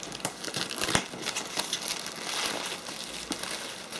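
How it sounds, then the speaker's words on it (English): Plastic wrap crinkling and tearing as it is stripped from the box of a DJI Mavic 3 Pro drone, a steady close rustle with sharp crackles and no voices. "So just take the plastic off the packaging"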